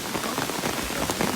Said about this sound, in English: And just like that, it is pouring.